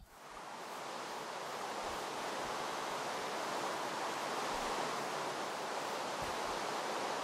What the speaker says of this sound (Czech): Sakra, ten déšť mě štve.